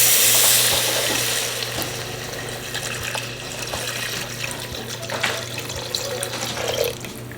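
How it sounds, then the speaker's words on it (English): Beef broth, four cups, is poured into a pot of cooking garlic for beef rigatoni. It makes a loud, continuous splashing pour with a faint sizzle and a steady low hum underneath. "And now we're going to add our beef broth."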